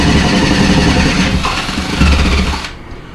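Power drill boring through shower wall tile into concrete board, a loud close grinding buzz with a rough rattling texture that eases off and stops near the end.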